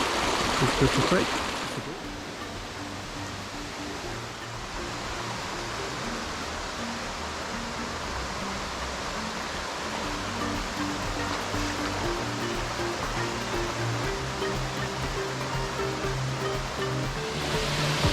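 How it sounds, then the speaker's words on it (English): Little Crystal Creek's flowing water gives a steady, broad rush close by that holds evenly throughout, with a brief louder burst at the start and faint voices mixed in underneath. "This is the creek."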